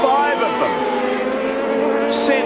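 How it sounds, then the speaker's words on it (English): Racing motorcycles scream around the Lakeside circuit in a 1987 Swann Series superbike race, a high, sustained engine whine that is loud and steady while a commentator talks over it. "Sensational motorcycle racing at Lakeside."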